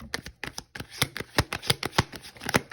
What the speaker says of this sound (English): Trying to get a good grip on these cards.